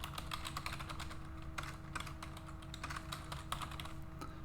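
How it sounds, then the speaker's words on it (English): Steady clicking of keys on a computer keyboard as a website address is typed in, a close, continuous patter of keystrokes with no talking. "we will type in our website address"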